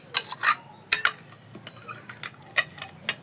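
Metal spoon stirring sugar into a watermelon ice cream mixture in a bowl, heard as a series of light, irregular clinks and scrapes, close and fairly quiet, with no talking.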